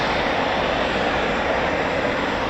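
Eurofighter Typhoon jet engines run on the ground at RAF Coningsby, giving a steady, loud, unbroken roar of broadband noise with no change in level.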